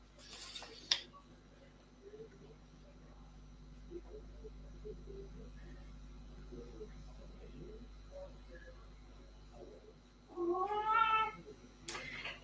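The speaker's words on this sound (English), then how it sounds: "And that is my cat" A house cat gives one drawn-out meow near the end, clear and close, after a long stretch of quiet room tone with faint shuffling.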